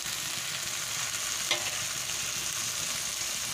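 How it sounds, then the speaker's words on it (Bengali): Fried prawns tumble into a frying pan of kolmi shak (water spinach) and get stirred, giving a steady, close sizzle with a single brief clink or scrape near the middle. "এবারে আমি যে চিংড়ি মাছটা ভেজে রেখেছিলাম ওটা দিয়ে দিচ্ছি।"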